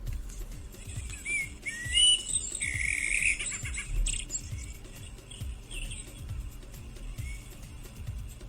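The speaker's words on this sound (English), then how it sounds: "It is a blackbird. That is a blackbird." Blackbird song played during a quiz, with varied fluting and chirping phrases at moderate volume over a low, rhythmic background hum.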